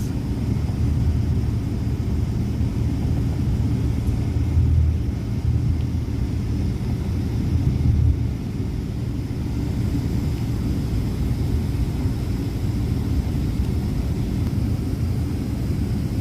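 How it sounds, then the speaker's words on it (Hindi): Passenger jets taxi at Heathrow airport, a steady, loud low rumble of engines lasting throughout with no break and no talk. "हमारा जहाज़ भी टैक्सी कर रहा है और 2 सामने और जहाज़ भी टैक्सी कर रहे हैं"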